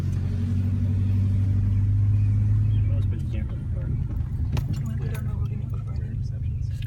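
A car driving slowly around a college campus, a steady low engine rumble inside the cabin that eases after a few seconds, with people talking quietly over it.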